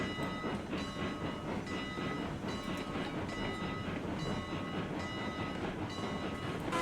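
A train rolls along rails in the RailRoads Online video game, a continuous rumbling run with rhythmic clickety-clack beats, steady and fairly close throughout with no talk.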